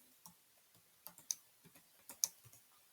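Quiet, irregular clicking of computer keyboard keys being typed, a dozen or so light taps spread in short bursts, close and faint with no talking.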